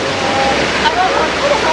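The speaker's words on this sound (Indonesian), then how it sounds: "Ini air terjun kecil." Small waterfall at the edge of a cliff on a Semeru tourist trail in Pronojiwo, Lumajang, giving a steady broadband rush of falling water, close and continuous, with faint voices mixed in.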